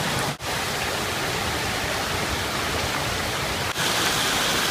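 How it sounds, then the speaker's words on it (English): A heavy downpour during flooding in Sleepy Hollow, Fairfax County, roars as dense, steady rain mixed with rushing floodwater pouring over a drainage bank, loud and unbroken apart from two brief dips. "We're in the midst of a downpour right now,"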